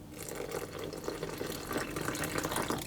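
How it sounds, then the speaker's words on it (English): Water pours steadily into a bowl of butter and flour for pastry, a continuous close splashing trickle with no pauses. "what I'm going to do is I'm going to pour most of my water"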